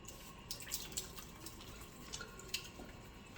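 Hands being washed under a running tap before changing an arterial line giving set in a clinical setting, with a steady faint water hiss and a few small drips and splashes throughout.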